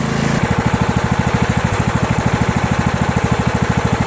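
A Craftsman LT1000 lawn tractor engine idles loudly and close by, giving a steady, fast, even, low thumping putter after a brief uneven start, with no talking.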